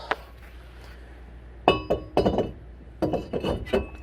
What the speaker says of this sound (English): Now we're going to go ahead and put the rotor back on.